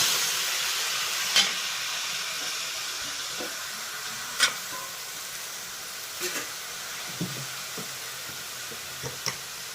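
Jackfruit seeds sizzle and fry in a pan under a steady hiss. A spoon stirs them with a few sharp scrapes spread across the sizzle.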